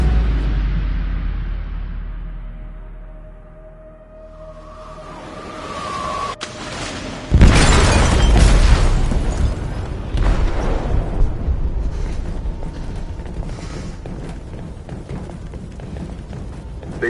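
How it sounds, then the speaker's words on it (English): An explosive detonates in a ship's hold in Detroit: Become Human with a sudden heavy boom. Rumbling debris and a churning roar follow and carry on for several seconds after a quieter, fading lead-in. "They detonated an explosive in the hold."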